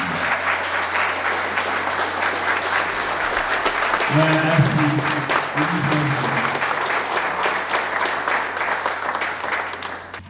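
Audience applause at a school alumni association gala, steady and loud throughout, with a brief spoken thanks partway through.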